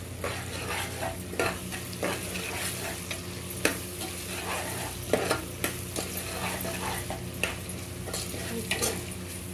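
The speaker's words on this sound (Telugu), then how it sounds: "పచ్చి వాసన పోయేలాగా కలుపుకోవాలి మంచిగా" Ginger fries in an oiled pan for paneer pulao while a spoon stirs it, giving a steady sizzle broken by scraping and occasional sharp taps against the metal.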